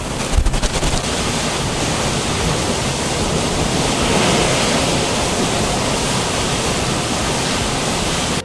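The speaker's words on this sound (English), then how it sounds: "Waves as high as 10 meters swept away many structures along the coast." Hurricane-driven waves up to ten meters high crash along a coastline, a loud, continuous roar of surf and wind-blown spray with no clear breaks, steady throughout.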